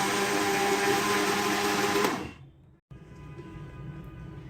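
An electric blender or mixer whirs loudly and steadily through cake batter with powdered sugar, then winds down and cuts off, leaving a quiet room hum.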